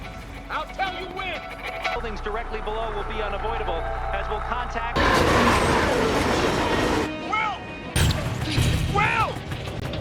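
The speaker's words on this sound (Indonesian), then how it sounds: "Kini kereta akan memasuki sebuah jembatan tikungan tajam Stanton." A runaway train in a film roars into a sharp curve on the Stanton bridge, with dense rumbling, metallic clatter and grinding, loud and close, under a voice talking over it.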